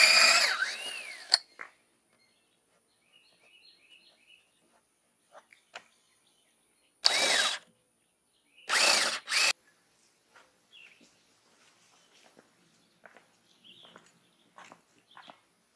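A power drill drives bolts into log bed headboard rails in a few short, loud whirring bursts separated by long quiet gaps with faint clicks and handling sounds, and a dog barks briefly at the start.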